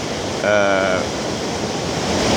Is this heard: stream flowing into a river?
yes